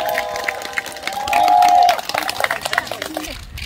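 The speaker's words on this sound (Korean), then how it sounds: "다시 한번 큰 환성과 박수스러로 격려를 해주시면 감사하겠습니다" Outdoor crowd at a Ganggangsullae traditional circle dance performance at a square in Jindo, cheering and clapping as the event closes, with a high held shout rising above the mixed crowd noise and chatter.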